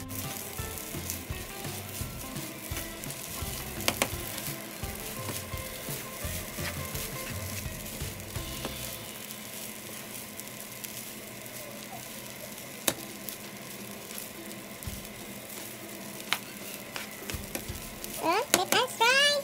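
Shrimp fried rice being stirred in a hot pan, a near sizzle with scraping and clatter of a utensil that eases halfway through, a few sharp taps and a brief squeal at the end.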